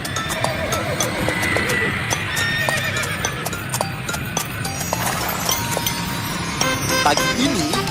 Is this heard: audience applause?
no